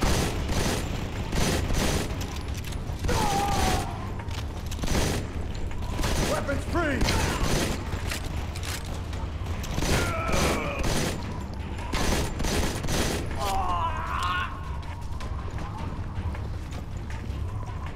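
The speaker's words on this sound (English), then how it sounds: "We're taking heavy fire!" Heavy gunfire in the Modern Combat 4 shooter game, dense bursts of shots cracking repeatedly with explosions and shouted voices mixed in throughout.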